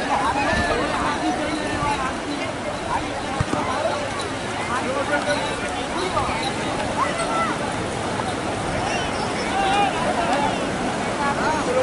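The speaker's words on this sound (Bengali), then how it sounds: "বড় বড় ঢেউ আসছে, বিশাল বড় বড় ঢেউ আসছে।" Sea waves at Digha beach roar and wash continuously with wind buffeting the microphone, loud and close, as people talk and a crowd murmurs over the surf.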